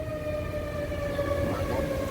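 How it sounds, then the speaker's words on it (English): Tornado warning sirens sound outdoors during a storm: a steady, sustained wail held at an even pitch throughout, moderately loud, with no talking over it. "there goes the sirens"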